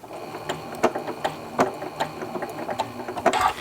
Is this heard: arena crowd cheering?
no